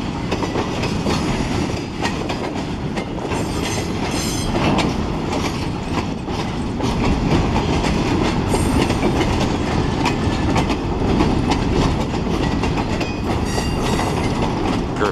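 A freight train of boxcars rolls past continuously, with dense clattering wheels and rumble filling the whole stretch, close and steady without speech.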